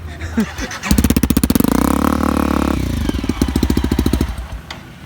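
An enduro motorcycle engine runs in a forest, starting with rapid throttle pulses, then holding a loud, steady rev before dropping back to a choppy, pulsing idle, close by, with people talking over it.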